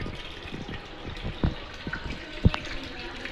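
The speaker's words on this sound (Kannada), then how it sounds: "ನೀರು ಬಂದಿದಲ್ಲ, ನೀರು ತುಂಬಿಸುವ" Tap water pours into a container at home, a steady splashing gush with a few sharper sloshes and drips, close and moderately loud with no talking.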